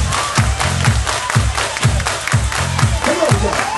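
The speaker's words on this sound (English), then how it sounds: "Body, clap your hands." A crowd at a live gig claps along to a thumping, steady dance beat, the hand claps blending into loud rhythmic music with a general crowd roar throughout.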